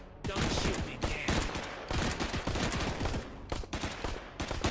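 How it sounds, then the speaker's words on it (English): Dense, loud gunfire from the virtual reality shooter Cactus Cowboy: Plants at War, with overlapping shots in continuous rapid bursts and brief pauses between volleys. "Don't shoot me, Dan."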